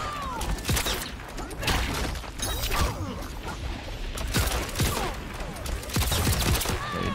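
Rapid gunshots ring out in a fighting video game match, sharp repeated bursts crackling in quick clusters with clatter and impacts, loud and close throughout.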